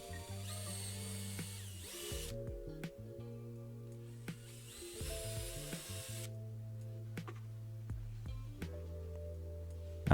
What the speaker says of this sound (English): and then drilling down.